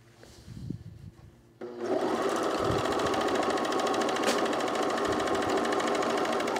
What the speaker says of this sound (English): I'm going to just serge as far down as I can